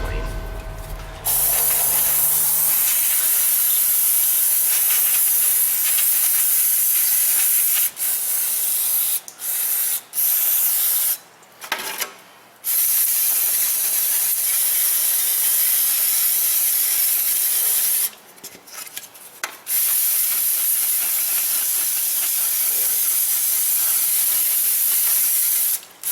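Brake cleaner sprayed onto a Toyota Prius front wheel hub during a wheel bearing job, a loud close aerosol hiss in long continuous bursts separated by brief pauses.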